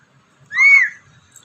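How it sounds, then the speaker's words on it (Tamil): A child's brief attempt at whistling, a single breathy, slightly wavering whistle lasting under half a second, close and fairly loud against otherwise quiet surroundings. "விசில் அடிக்கிறியா?"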